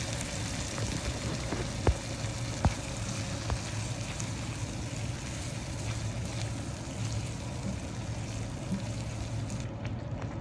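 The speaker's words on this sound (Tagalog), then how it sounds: "Maglalagay na ako ng pasta sauce." Pasta sauce sizzling in a hot pan for spaghetti, a steady broadband frying hiss with a couple of faint knocks, continuous and close, with no talking.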